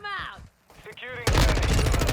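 M4 rifle fire in Modern Warfare 2 erupts as a dense burst of rapid shots, loud and close, after a moment of voice-like tones.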